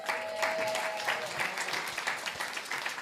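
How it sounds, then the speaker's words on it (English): Round of applause at a community meeting for a maintenance worker named employee of the month, moderate clapping from a modest gathering that holds steady throughout. "I figured we would definitely get a round of applause for him"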